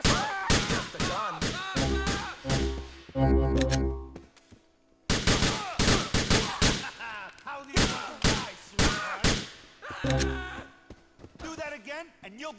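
Gunfire in the video game Grand Theft Auto IV, with repeated loud sharp shots in bursts and several heavy booms. Game characters talk over much of it.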